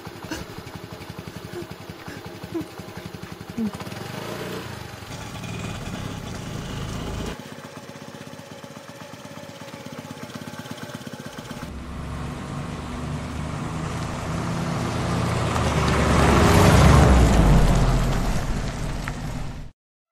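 A vehicle approaching in a Tamil short film scene: a steady engine rumble under rain-like hiss grows louder toward the end as it draws near, then cuts off abruptly.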